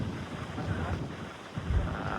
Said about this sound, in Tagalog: Lakas lang yung hangin, sana hindi tayo makakuha ng hangin.